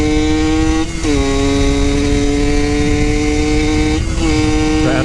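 Yamaha YSR50 mini street bike ridden at speed, a loud, close, buzzing small engine holding a steady pitch, with brief dips at gear shifts.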